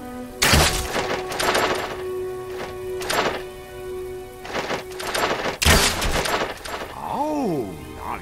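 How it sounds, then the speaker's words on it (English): Gunfire in the Xbox 360 game Fable 2, several loud sharp shots and bursts spaced a few seconds apart, close and punchy, with game sounds and a tonal sweep near the end. "Well, I've got to say, that's some good shooting."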